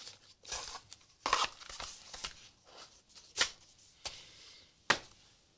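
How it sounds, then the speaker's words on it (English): Close, crisp bursts of playing cards being shuffled and riffled, several quick rustling flurries separated by short pauses, with no talking. "we're going to just like shuffle some cards here"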